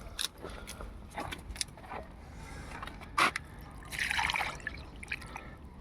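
Rooftop plants being watered, with scattered splashes, drips and trickles of water hitting soil and leaves, including a louder splash and a short burst of pouring near the end, fairly quiet overall.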